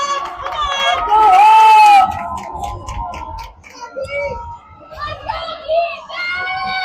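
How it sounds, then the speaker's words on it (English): Crowd noise at a Hawks versus Monument game, with children's voices and busy chatter rising into a loud stretch of shouting, then dropping back to lively babble and scattered calls. "Crowd is getting into it as Monument has a chance, and the Hawks need some encouragement here."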